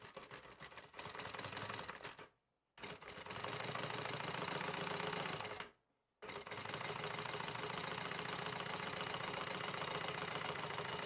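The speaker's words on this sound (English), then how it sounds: "I'm going to be top stitching the tape down to the pocket." Sewing machine top stitching zipper tape down to a pocket, a fast steady mechanical rattle in three runs split by two brief stops, fairly quiet and with no talk.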